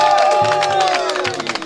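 Crowd at a football final between Kagasa FC and Ramiro FC in Rwanda, cheering and applauding loudly and continuously, with shouts and whoops rising over the clapping.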